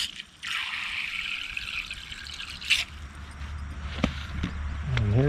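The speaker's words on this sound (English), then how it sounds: "Put a little water in there." Small amount of water trickled onto bathroom tile before drilling a hole for a shower pipe, a faint, close dribble and a few soft drips and taps, with no voices.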